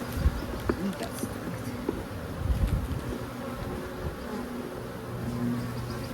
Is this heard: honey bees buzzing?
yes